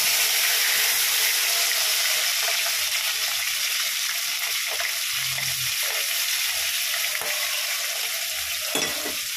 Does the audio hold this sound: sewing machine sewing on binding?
no